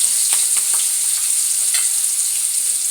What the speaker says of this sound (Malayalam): അപ്പം നല്ലെണ്ണ ഒഴിക്കാം. കുറച്ച് വെളുത്തുള്ളി, പച്ചമുളക്